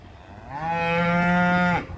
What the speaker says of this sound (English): making a big moo there